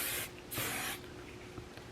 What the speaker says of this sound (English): It's a mattifying spray.